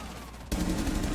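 Gunfire in the tactical shooter Rainbow Six Siege: after a quiet moment, a sudden loud shot bursts in and is followed by dense, sustained rattling fire.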